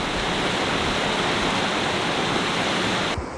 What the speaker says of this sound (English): There's a nice waterfall down here.